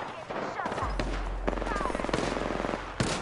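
Rapid automatic gunfire bursts in an Apex Legends squads match, dense and loud up close, rattling almost continuously over a low rumble with occasional sharper single shots.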